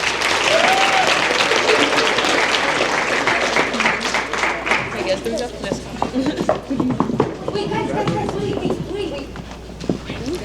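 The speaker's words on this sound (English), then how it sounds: "Let's give these young ladies one more round of applause." A banquet crowd at a high school athletics event gives a round of applause for young female athletes, a loud, dense clatter of clapping that thins into scattered, sharper claps near the end, with some voices underneath.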